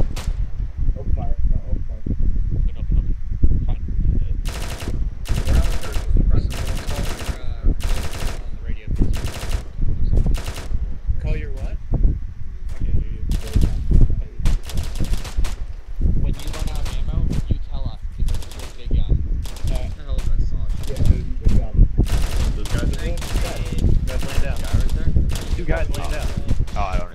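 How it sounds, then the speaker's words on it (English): Video game Arma 3 military town-assault training: loud bursts of machine-gun and rifle fire crackle repeatedly throughout, some rapid and sustained, others single shots, mixed with voices talking over the battle. "Big gun. Open fire. Open fire."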